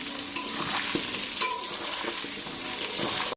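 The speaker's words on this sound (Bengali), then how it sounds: "এখন আলুগুলো ফ্রাই করে নেব আস্তে আস্তে ওই তেলের মধ্যেই" Potatoes frying slowly in hot oil in a home kitchen, a steady close sizzle with occasional stirring clinks and scrapes throughout, no talking.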